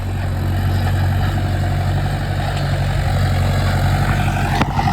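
A turbocharged tractor engine pulls in second gear with a close, steady, heavy low-pitched rumble and faint whine above it, unbroken apart from a brief click near the end.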